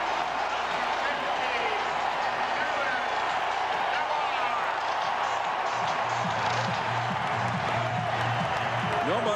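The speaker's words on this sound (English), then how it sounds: "Ortiz will get the hero's welcome as he heads back to the dugout for the big crowd at Fenway" Big crowd at Fenway Park cheering David Ortiz during a 2003 ALDS playoff game against the A's: a steady, distant roar of applause and cheers throughout, with a broadcaster's voice over it.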